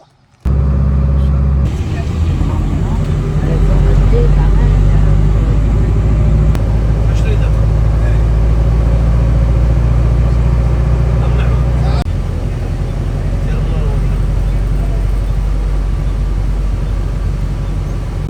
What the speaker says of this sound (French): Pire trajet en bus de ma vie.